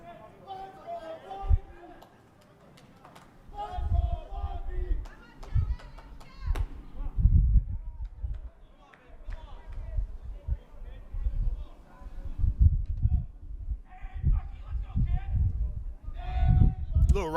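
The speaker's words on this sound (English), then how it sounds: "Little rowdy crowd over here in the dugout." A rowdy bunch of baseball players in a dugout at a high school game shout, clap and chatter in scattered bursts, close by, with a commentator's voice talking over them.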